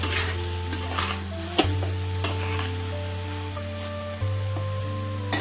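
Toor dal and brinjal pieces are mixed in a pan, with a steady low sizzle and a few sharp spoon scrapes and knocks against the metal, over a constant background hum.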